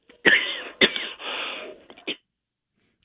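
On a talk show broadcast, a person clears their throat with a few rough, raspy bursts and cough-like catches, close and moderately loud, ending in near silence.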